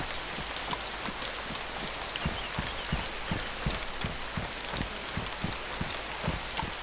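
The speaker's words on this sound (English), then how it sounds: "It's absolutely lashing down with rain where I am at the moment" Heavy rain lashes down steadily, a dense hiss of drops with frequent sharper patters on a nearby surface, constant and fairly close with no voices.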